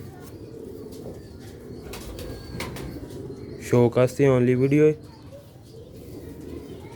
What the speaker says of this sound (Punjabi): ਬਹੁਤ ਹੀ ਲਾਜਵਾਬ ਕਬੂਤਰ ਨੇ ਮਾਸ਼ਾਅੱਲਾ ਸਿਆਲਕੋਟ ਦੇ